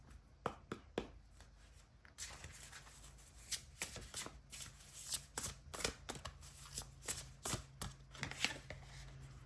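Tarot cards shuffled by hand for a card reading, giving repeated crisp riffling bursts and soft flicks in an uneven rhythm, close and fairly quiet, with no talking.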